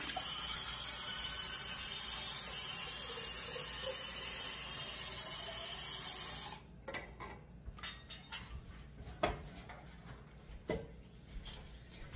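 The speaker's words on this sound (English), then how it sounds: "I'm going to add some water to it" Water pours steadily into a pot holding oxtail and beef stock with a full, rushing sound, then stops, followed by scattered clinks and knocks of cookware.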